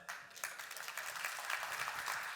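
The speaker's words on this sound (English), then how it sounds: "Snap your fingers for me" An audience at a motivational talk snaps their fingers together, a dense, fairly quiet crackle of many small clicks that holds steady for a couple of seconds.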